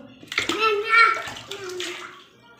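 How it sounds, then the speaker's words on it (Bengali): Someone speaks and vocalizes in a home bathtub during bath time, with water sloshing faintly underneath his voice. "অনেকক্ষণ স্নান করেছো তুমি"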